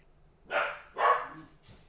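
A dog barks twice, a few sharp, fairly close woofs with a fainter third yelp trailing after, heard indoors with no talk.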